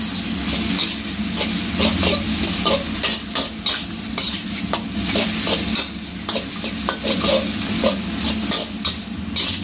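Wide rice noodles, crisp kale and marinated pork stir-fried for pad see ew in a wok, with a steady loud sizzle and repeated scraping and clacking of the spatula against the metal, close and continuous.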